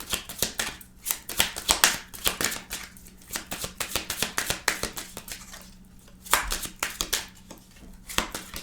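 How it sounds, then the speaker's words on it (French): A tarot or oracle deck shuffled by hand as some cards fly loose: rapid papery slaps and flutters in bursts, close and moderately loud, with brief pauses between. "On a des cartes qui commencent à voler."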